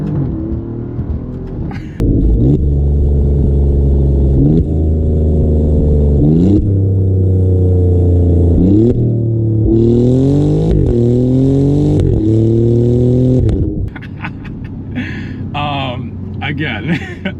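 Ford Mustangs revving at a crowded car meet, a loud deep engine rumble rising and falling through several repeated revs, with a person talking over it.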